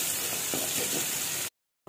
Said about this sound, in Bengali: যে তেলটা রয়ে গেছিলো তার মধ্যে অল্প একটুখানি রসুন কুচি আর সামান্য একটুখানি পেঁয়াজ কুচি দিয়ে ভালো করে নাড়াচাড়া করে নেব